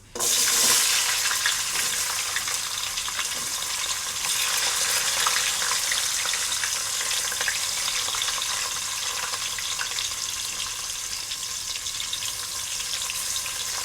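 Onions, green chillies, cinnamon, cloves and biryani masala fry in a pan with a loud, dense, continuous sizzle from start to finish, heard up close with no voices.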